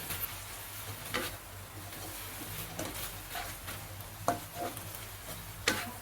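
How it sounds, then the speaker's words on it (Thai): Continuous sizzling and scraping of wide rice noodles with stir-fry sauce being stir-fried in a wok, with occasional clinks of a utensil against the pan. "ลงไปผัดต่อเลยครับ"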